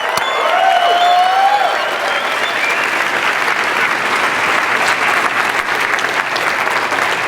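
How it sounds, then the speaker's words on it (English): An audience at an Ignite Fort Collins speaker event bursts into sustained applause, loud and dense throughout, with a brief whoop near the start and light crowd noise mixed in. "how about a round of applause for all of our speakers tonight?"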